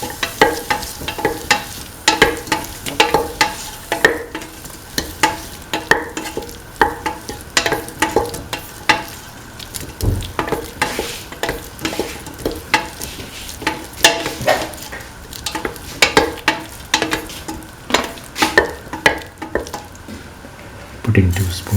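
Tomato, green peas and snake gourd stew being stirred in a pan while it fries, with repeated scraping and squishing stir strokes over a light sizzle, close and continuous, with no talking.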